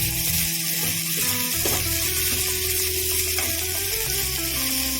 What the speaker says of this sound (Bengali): দিয়ে দিয়েছি ডালের বড়ি ডালের বড়িটা একটু ফ্রাই করে নেবো